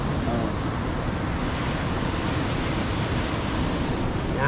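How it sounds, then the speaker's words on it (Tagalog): Large ocean waves during a typhoon roar as a continuous, loud, broadband wash of surf mixed with wind, filling the whole clip without pause and with no clear speech. "Lalaki ng alon mga kalibre oh. Yan ang alon bagyo."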